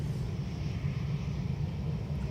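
Ryanair jet taking off from runway 28 right at Dublin Airport, a steady, loud low-frequency engine rumble that holds evenly throughout with no talk.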